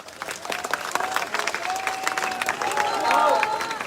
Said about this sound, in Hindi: बस ताली बजा दो एक बार जोर से।